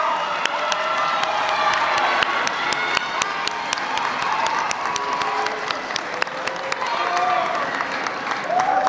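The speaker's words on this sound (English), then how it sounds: "can we give them a huge round of applause?" Audience at a youth end-of-summer celebration clapping and cheering, with whoops and children's shouts rising over steady applause while voices call out beneath it.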